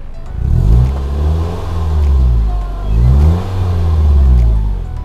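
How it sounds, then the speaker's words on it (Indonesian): Mitsubishi Outlander 2013 with a switchable automatic-valve exhaust, revved in its loud mode: two deep, booming rev swells rise and fall close by, with no talking. "dia punya knalpot yang bisa diatur secara otomatis suaranya"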